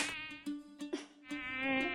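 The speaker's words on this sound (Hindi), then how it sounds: "तो सबसे पहले ये मच्छर यहाँ भी आ गया" A mosquito in a TV drama buzzes close to the ear as a steady whining hum, rising and falling in pitch for about two seconds, with no talk.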